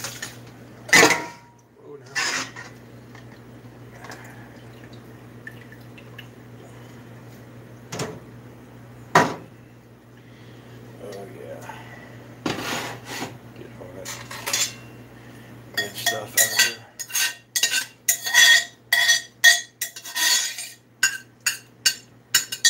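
Metal utensils clink and clatter against pots and dishes while vegetables are strained from a German Sauerbraten marinade in a kitchen, quiet at first with a low hum, then a dense run of sharp clanks toward the end.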